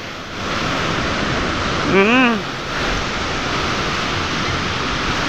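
Steady roar of breaking surf fills the clip, broad and continuous, with a brief voice-like exclamation rising over it near the middle.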